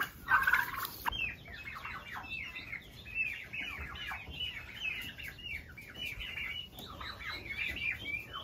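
Domestic fowl calling repeatedly, a loud turkey gobbling burst at the start followed by a steady run of chirpy, wavering calls close by.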